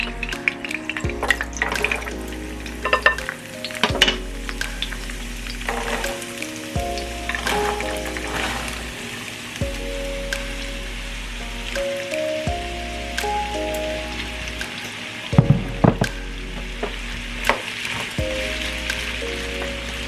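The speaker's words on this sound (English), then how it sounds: "And now I see that potato is frying, so I'm going to go ahead and add my potatoes in." Steady crackling sizzle of potatoes frying in hot oil, with clinking and occasional thumps of cookware and a low hum underneath.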